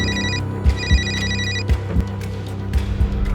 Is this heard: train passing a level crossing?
no